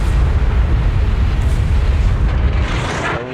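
In World of Warships, a warship fires a full broadside as one loud, deep, booming blast that rolls on as a dense rumble for several seconds before easing slightly.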